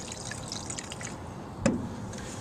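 100 low lead aviation fuel trickles softly into a handheld fuel strainer during a light aircraft preflight check, a faint close dribble with one brief louder splash.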